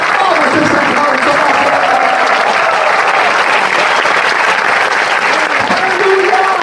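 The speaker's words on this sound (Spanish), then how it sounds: "Vamos a ese aplauso." A church congregation applauds during a service, a dense, sustained wash of clapping from a crowd that stays loud and even throughout, with voices calling out underneath.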